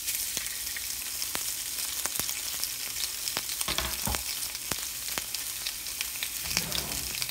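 Pork belly sizzling in hot avocado oil in a pan, a dense, even crackle close by with occasional sharper pops and a few utensil knocks, no voices.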